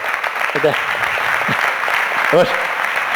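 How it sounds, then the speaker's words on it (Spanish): Steady audience clapping at a talk on the future of the automotive industry in Valladolid, greeting a shy guest called up front; a few voices speak briefly over the continuous applause. "por favor, un aplauso"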